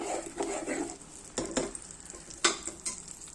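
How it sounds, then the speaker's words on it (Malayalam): Ground coconut paste for a tuna fish curry bubbles and sizzles in a pot, broken by several sharp clinks and scrapes of a spoon stirring against the vessel, with no talking. "അപ്പോൾ നമ്മൾ അരപ്പുണ്ട് നല്ലതുപോലെ തിളച്ച് വരുന്നു"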